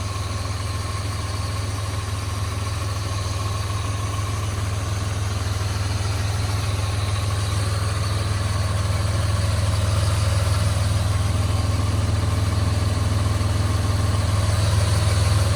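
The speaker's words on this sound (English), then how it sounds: "Beautiful engine" A 1996 Lexus LX450 SUV engine idles steadily and low close by for the whole stretch, smooth and unchanging with a faint mechanical whir on top.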